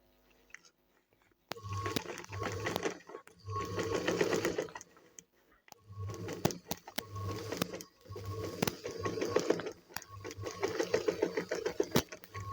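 A sewing machine stitches fabric in several short bursts, each a rapid mechanical chatter that starts and stops with pauses between, close by and clear.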